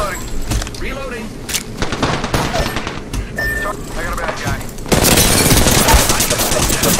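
Gunfire in the game Apex Legends, bursts of rapid shots and sharp impacts crackling close by, building to a dense, loud barrage near the end, with voices talking over the action.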